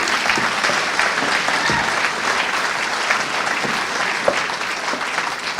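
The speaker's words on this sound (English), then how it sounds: "Can we have a round of applause for all of our award recipients and youth poets tonight?" An audience at an awards gala claps for award recipients and youth poets, producing sustained, even applause from a large room with no break in the clapping.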